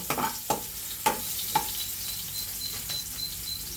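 Chicken and liver sauté with ginger in a pan for adobo, with a few sharp scraping stir strokes over a steady close sizzle that continues alone after the stirring stops.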